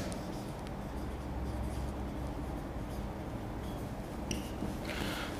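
A pen writes on paper during an accounting lesson, a faint scratchy scribbling with short strokes and a few sharper taps near the end, quiet and close against low background noise.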